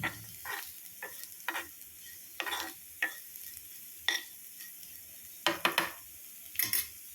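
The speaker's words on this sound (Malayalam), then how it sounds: "തേങ്ങ വറുത്തിടുന്നതാട്ടോ." Grated coconut roasting in a pan for an Onam erissery, spaced scraping strokes of a spoon with clinks on the metal over a faint, steady sizzle.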